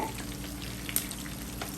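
Fish sizzling in hot oil for a Kerala-style fish molee, a steady close crackle and hiss with small pops, continuous and alone.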